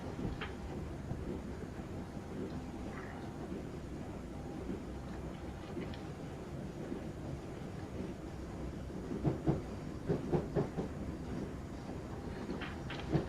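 A Class 319 electric train in Train Sim 2018 running through Castlefield Junction on the Man United to Piccadilly route, a steady low rumble of motors and wheels with rhythmic clicks and clatters over the junction, alone without talk.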